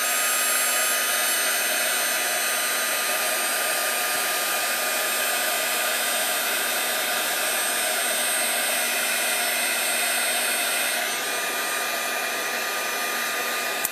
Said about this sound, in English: just heat it with the heat tool